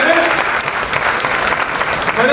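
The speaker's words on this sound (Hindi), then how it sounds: "दोस्तों एक बार जोरदार तालियों के साथ करते हैं" An audience at an LIC Mumbai division meeting applauds loudly and continuously, a dense wash of clapping filling the room throughout.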